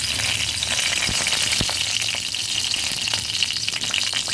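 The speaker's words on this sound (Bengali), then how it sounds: "শুকনো লঙ্কাগুলো ভেজে নেব" Dried red chillies fry in hot oil in a wok, a loud continuous sizzle with a few sharper crackles, close up and with no talk.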